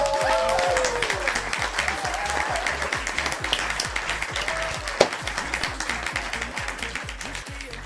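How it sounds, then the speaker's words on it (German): Applause for Elin after she crosses the finish line at a gondola-themed game event, a dense patter of clapping with rhythmic low thumps beneath and a sharp tap near the middle, heard at moderate level. "Applaus für Elin!"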